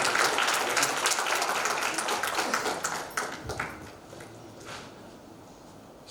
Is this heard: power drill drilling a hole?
no